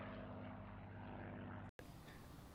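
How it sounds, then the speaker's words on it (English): Propeller aeroplanes practicing flybys over the Duxford airfield: a steady, fairly faint engine drone with low tonal hum that cuts out abruptly near the end, then resumes as a diffuse rumble. "you may be able to see now flybys with all kinds of different aeroplanes practicing"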